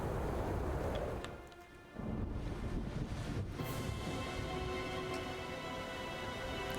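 Thunderstorm at sea in a video game, with a ship sailing into the storm: a steady roar of wind and rain, a brief dip, then a low rumble of thunder under continuous gusty noise.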